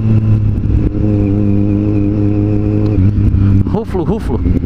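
Kawasaki Z750 motorcycle engine revving hard and accelerating up through the gears without the clutch, its steady loud drone breaking at each clutchless shift, with a speaking voice heard over it.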